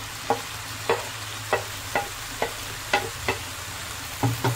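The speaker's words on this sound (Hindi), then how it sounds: "अब इन सारे चीज़ों को इसमें अच्छे से मिलाना है और भूनना है" Greens with tomatoes and chana dal fry in a pan while a spoon stirs them, a low sizzle under a series of about ten regular scraping strokes close up, with no talking.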